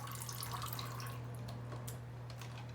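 Water trickles and drips steadily through three holes in the bottom of a container, making a continuous close rain-like patter over a low steady hum.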